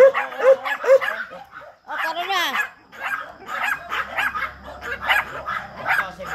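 A dog barks several times in quick yips early on, with people talking throughout and a low hum entering later.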